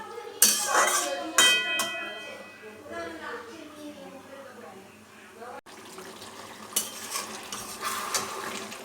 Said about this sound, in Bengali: চলো ভালো করে এখন নেড়ে নিই